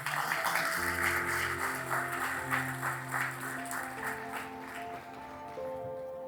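Applause from a TEDx talk audience at NIT Kurukshetra, a steady clatter of many hands across the whole stretch, with a sustained musical tone underneath throughout.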